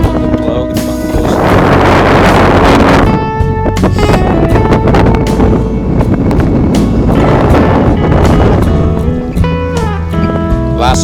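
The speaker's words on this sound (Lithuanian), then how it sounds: "Šiandien didelis vėjas, nelabai smagu plaukti bangos." Strong wind buffets a small motorboat out on wavy water in September, loud gusty rumbling over a droning, tonal engine hum, swelling and easing throughout.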